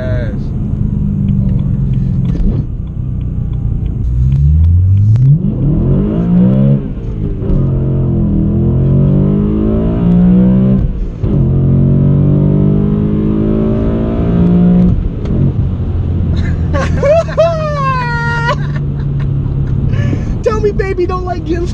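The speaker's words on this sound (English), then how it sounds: "I hear that air intake when you like full throttle." A manual BMW E92 M3 engine revs hard at full throttle with a loud intake roar, pitch climbing and falling through gear changes amid steady road rumble, while people talk over it in the cabin.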